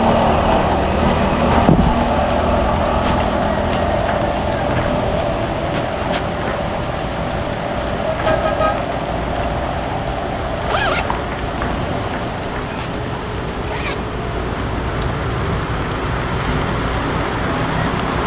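Steady rain falling and pattering on surfaces during a boat trip in the provinces, a dense continuous hiss close around, with occasional knocks and clatter and no clear talk.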